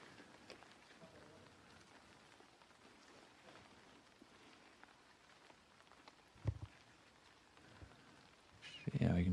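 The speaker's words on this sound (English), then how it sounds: "you can tell the rain's picking up" Rain falls steadily on a disc golf course at the Prodigy Disc Pro Tour event in Tampere, 2022. The patter is soft and constant, with a few sharper knocks and faint voices nearby.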